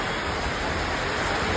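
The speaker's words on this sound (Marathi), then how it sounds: "इथं पाणी बघा बघा कशा धारा लागल्या सगळी" Rainwater streams steadily through a leaking shop roof covered by a new tarpaulin laid over two old ones, a dense, even hiss with no break.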